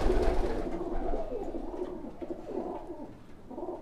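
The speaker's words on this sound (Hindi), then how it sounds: "लगभग 40 एक कबूतर इस सेक्शन में है" Pigeons coo softly and continuously inside a loft holding about forty birds, mostly females and their young males, a low rolling murmur of overlapping calls close by.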